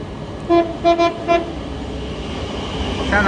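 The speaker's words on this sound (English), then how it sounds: "Soon to pass will be a Thameslink service." A Thameslink Class 700 train approaches South Croydon station on the Brighton Main Line, sounding several short horn toots in quick succession, with the rising rumble of the passing train building toward the end.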